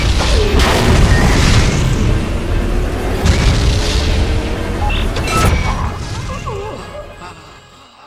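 Massive demolition charges detonate at the base of a giant weapon in James Bond 007: Nightfire, a loud sustained booming roar with crashing debris bursts that rumbles on for several seconds before slowly fading out.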